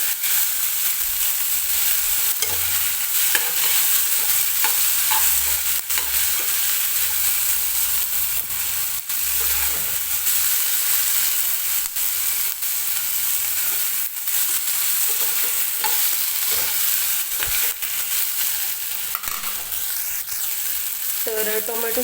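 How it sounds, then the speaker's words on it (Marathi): Tomatoes and onion roast in a hot pan for mutter paneer, giving a continuous loud sizzle and hiss with occasional stirring scrapes throughout and no talking. "टोमॅटो सुद्धा हलकासा मऊ होईपर्यंत आपल्याला भाजून घ्यायचा आहे."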